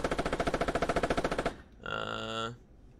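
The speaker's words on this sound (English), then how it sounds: "You got your coax, which is your machine gun." A tank's coaxial machine gun fires a rapid, even burst of about twenty rounds in the video game Squad, loud and close, then stops and is followed by a brief tonal hum.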